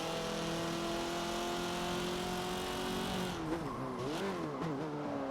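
Renault Megane race car in the Forza Motorsport 7 video game, engine droning steadily at high revs, then shifting and revving up and down through corners with brief tire squeal, loud and continuous with no talk.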